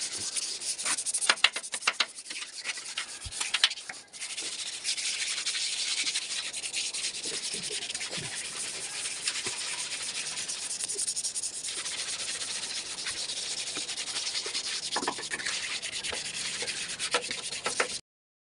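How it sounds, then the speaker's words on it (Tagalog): Steady abrasive rubbing of 240-grit sandpaper with soapy water over a body-filler surface, continuous back-and-forth scrubbing for a long stretch, close and fairly loud, with no talking. "mag-finishing tayo ng number 240 na may tubig at saka sabon pa rin guys"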